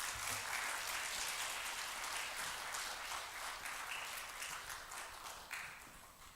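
A church congregation at a mission for the blind claps to welcome a visiting pastor, a continuous, even wash of applause that is quiet and somewhat distant throughout.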